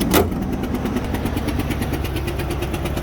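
A 5.3 liter Chevrolet Silverado V8 runs at idle with a cylinder 4 fault, giving a steady close engine drone with a fast, even ticking pulse on top after a brief knock at the start.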